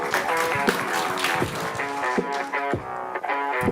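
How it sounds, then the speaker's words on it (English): Audience applause at a startup pitch competition event, a dense steady wash of clapping from a crowd lasting the whole stretch, fairly loud and continuous with no voices on top. "Please welcome with your applause"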